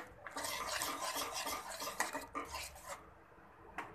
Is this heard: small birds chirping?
no